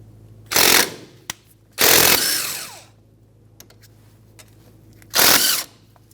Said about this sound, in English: with a 14mm socket or wrench, we're going to loosen up both slider bolts.